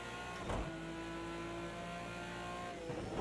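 An Aston Martin Vantage GT3 in Project Cars 2 at Bathurst accelerates with a steady engine whine that holds and rises, with brief bursts of louder noise near the start and end.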